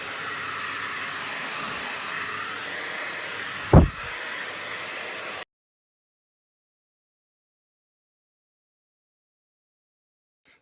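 A hairdryer runs as a Foley stand-in for an airplane, producing a steady whooshing roar that swells to a brief loud gust near the middle before cutting off abruptly into silence.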